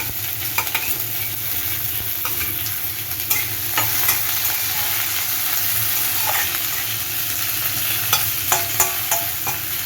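Chopped green chili, onion and garlic fry in a pan, a dense continuous sizzle close up, with intermittent spatula scrapes and ticks and no talking.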